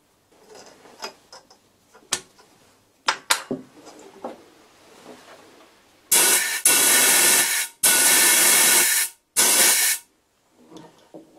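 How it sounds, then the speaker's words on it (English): Compressed air blasts through the spindle hole of a milling machine in three loud, steady hissing bursts lasting a second or more each, preceded by scattered metallic clicks and handling taps. "have an assistant blow through the spindle hole with some compressed air"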